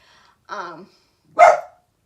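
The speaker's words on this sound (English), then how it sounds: "barking, most likely someone's walking past." Two short barks from a dog, fairly close, with a brief pause between them against a quiet background.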